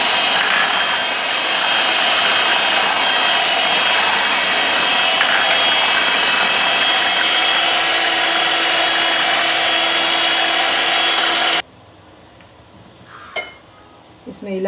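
An electric mixer beats a sugar mixture for egg pudding, giving a loud, steady mechanical whir for about eleven seconds before it cuts off, followed by a couple of faint clinks.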